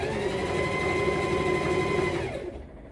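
A sewing machine stitches a skirt with a steady, close, whirring hum that runs continuously and then slows and stops near the end.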